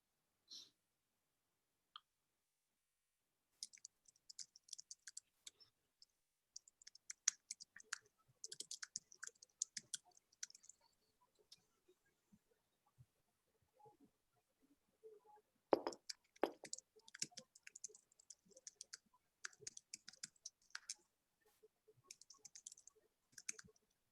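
Fingers type on a computer keyboard in quiet bursts of soft clicking keys, with pauses between runs, a flurry near the middle, and faint breathing in between.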